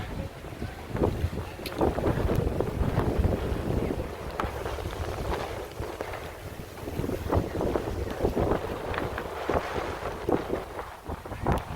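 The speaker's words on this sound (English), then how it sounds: "Very windy, very snowy." Strong snowstorm wind roars and buffets the microphone continuously on a downtown Chicago street, a loud gusting rush with faint crowd noise beneath.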